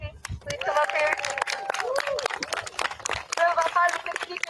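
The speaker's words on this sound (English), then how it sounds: "So can we have a round of applause, Frankie?" A crowd at a student protest in Washington D.C. breaks into loud, dense clapping mixed with cheering and shouted voices, continuing without a pause.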